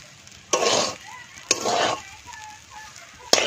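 Onions frying in a pan for biryani fried rice, with bursts of sizzling as they are stirred, three separate surges spaced about a second apart over a quieter background hiss.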